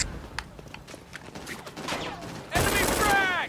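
Gunfire crackles in the video game Brink as scattered shots under quieter game sounds give way to a louder, denser volley during the final second.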